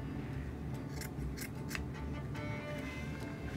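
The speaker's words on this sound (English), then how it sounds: "So I'm gonna trim these right now like this. Just wanna trim the ends." Scissors snip the ends of homemade fall and Halloween craft pieces, with several crisp, separate cuts spread across the moment against a steady low background hum.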